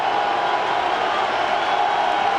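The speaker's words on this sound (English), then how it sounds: "Deafening crowd at Kinnick." The crowd at Kinnick Stadium roars steadily and loudly at a 2003 Iowa versus Michigan college football game as Michigan faces a 4th-and-7. The sound is an unbroken wall of noise from a packed stadium.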